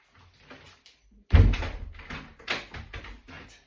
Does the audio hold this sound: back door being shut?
yes